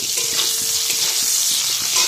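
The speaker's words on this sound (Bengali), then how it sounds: "আলুটা ভেজে নিয়েছি, এখন শিমটা ভাজছি" Flat beans frying in a pan in a village kitchen, a continuous bright hiss and crackle with faint stirring, close and steady, no talking.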